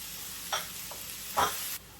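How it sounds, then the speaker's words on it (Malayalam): Chopped onions hit hot coconut oil with a steady broadband sizzle, with two louder bursts of hissing and stirring partway through before the sound cuts off near the end; no voices. "അപ്പം ഞാൻ കുറച്ച് വെളിച്ചെണ്ണ ഒഴിച്ചു. നമുക്ക് അരിഞ്ഞ് വെച്ചിരിക്കുന്ന സവോള"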